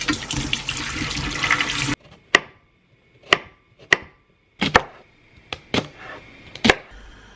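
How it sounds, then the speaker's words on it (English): Knife chopping swede, carrots, parsnip, celery and onion on a board: a rushing, water-like wash opens, then about ten separate sharp chops land at uneven intervals, close and clear with no voices. "The mammoth chopping session has finished."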